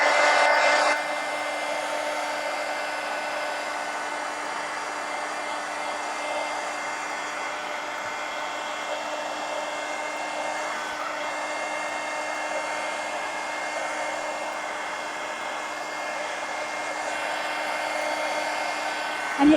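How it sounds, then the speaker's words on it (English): A heat gun blows hot air with a steady, whirring hiss and hum that runs continuously at moderate loudness. "So I'll get my heat gun."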